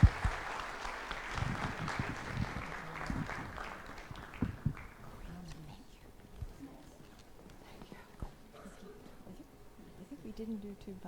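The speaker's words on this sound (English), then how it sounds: "If you could give a round of applause to the panel members," A live event audience applauds panel members at the close of a discussion on ending AIDS, with clapping strongest in the first five seconds and then thinning into scattered claps and murmuring voices.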